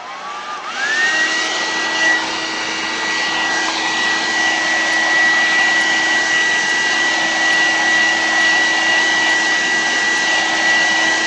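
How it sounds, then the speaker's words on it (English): A hair dryer blows steadily and loudly throughout, heating rubber stamps at close range; its whine rises just after switching on, then holds a continuous whooshing roar with no talking. "I'm just going to use my trusty old hair dryer"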